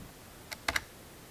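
A few keys pressed on a gaming keyboard in a home office setup: one soft click, then two quick sharp clicks close together, near and fairly quiet, with no talking.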